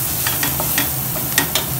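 Onions warming in a pan are stirred back to back, giving quick repeated scraping strokes over a steady low sizzle, close and fairly loud.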